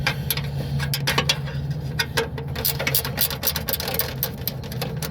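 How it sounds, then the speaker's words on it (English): A small low-profile ratchet wrench turning a bolt beside the headlamp housing of a 2017 Chevy Silverado, giving a run of quick close clicking ticks in uneven bursts over a low steady hum. "Get them with a little ratchet wrench, something low profile that could get in between the bolt and this little housing of the headlamp."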